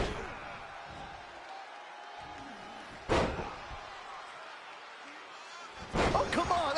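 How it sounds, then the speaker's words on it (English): A power bomb lands in a WWE wrestling video game, two sharp heavy slams on the ring mat a few seconds apart, each followed by a brief rumble over background crowd noise. "You have to question what kind of malintent is behind a power bomb with that much force."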